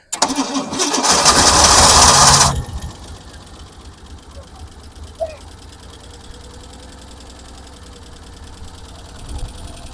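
A 1987 Ford Bronco II with a blown head gasket cranks loudly for about two seconds, then its engine catches and settles into a low, uneven idle.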